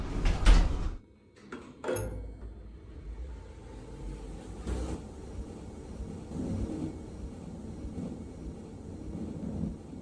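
Elevator doors sliding shut inside a Roblox test tower game: a sharp mechanical thud and slide near the start, then a steady low hum of the elevator running, loud and close with no talking.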